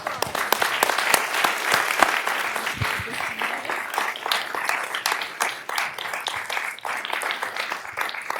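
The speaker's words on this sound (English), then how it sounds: "one big round of applause" A room of people at a city council meeting gives a sustained round of applause for an 8th-grade student, dense clapping filling the whole stretch with sharp individual claps popping out, loud and continuous.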